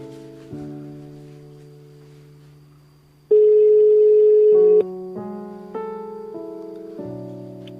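A phone rings with an electronic melodic ringtone of sustained steady tones that step between pitches, loud and clear with no talk over it.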